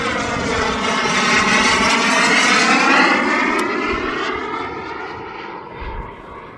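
A Hangar 9 Hawk RC model airplane engine screams at full throttle on its maiden flight, a loud, sustained whine that rises as the plane passes near and then dips and fades slightly as it moves away.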